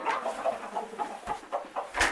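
Hens clucking in a henhouse at feeding time, a run of short repeated clucks and calls close by with one louder squawk at the end, no talk.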